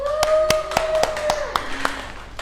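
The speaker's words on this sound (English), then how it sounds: "give applause for Muna" A few scattered hand claps for a student named Muna during a classroom microteaching session, sharp separate claps over a faint sustained tone in a small room.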